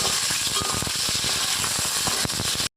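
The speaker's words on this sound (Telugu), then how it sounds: "ఆయిల్ హీట్ అయ్యాక పచ్చిమిర్చి వేసుకుందాం ఫస్ట్ మంచిగా ఫ్రై చేసేసుకోవాలి" Green chillies frying in hot oil for a ridge gourd chutney, a loud, dense, continuous sizzle and crackle close by that cuts off abruptly at the end.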